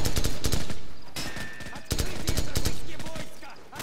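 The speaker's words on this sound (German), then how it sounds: "Es fallen Schüsse." Rapid, overlapping bursts of gunfire from the video game Call of Duty Modern Warfare ring out loud and close during an assault on a farmhouse. A short lull breaks the shooting before it resumes, and a voice talks briefly underneath.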